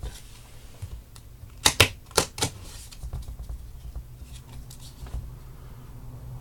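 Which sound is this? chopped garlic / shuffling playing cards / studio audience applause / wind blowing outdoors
shuffling playing cards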